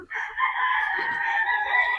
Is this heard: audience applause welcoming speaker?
no